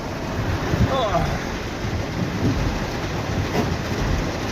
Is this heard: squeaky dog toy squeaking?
no